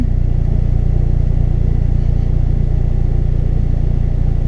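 An Acura RSX Type S fitted with an HKS cat-back exhaust idles and revs, a loud, close, steady low-pitched exhaust drone with a fast pulsing rumble and no talking.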